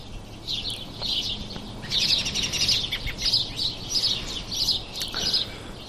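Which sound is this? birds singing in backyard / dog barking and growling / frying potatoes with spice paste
birds singing in backyard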